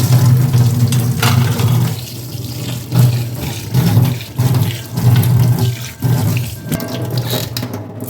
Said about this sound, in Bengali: মাছ ধুলাম এটাকে একদম লিকুইড দিয়ে ধুয়ে নিলাম